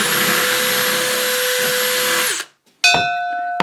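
A power drill drills a hole through a board, whining steadily at high speed, winds down to a brief silence, then starts up again with a sharp whir, loud and close.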